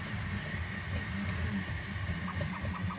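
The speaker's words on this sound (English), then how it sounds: "this 30 mil fan on the top, continually blowing cool air onto the model" A 30 mm cooling fan on a Raspberry Pi-controlled 3D printer blows steadily onto the print, a continuous close whir and hum mixed with low machine drone, running evenly without breaks.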